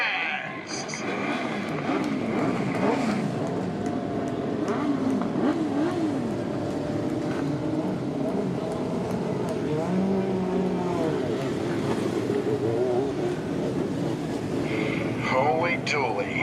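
Midget race car engines start up and rev at Wahgunyah Speedway during an Australian GP midget title meeting, a dense, loud roar with rising revs near the end while an announcer talks over it.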